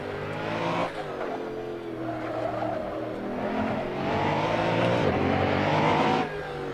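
A Koenigsegg One:1 hypercar in Assetto Corsa roars steadily at high revs, its engine note climbing and dipping through gear changes, loud and continuous with no voices.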